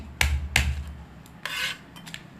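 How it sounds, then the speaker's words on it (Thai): Two sharp, heavy knocks as garlic cloves are smashed on a hard surface, a pause, then a short scraping rub and faint clicks, all close by. "ทุบกระเทียม 2-3 กีบ"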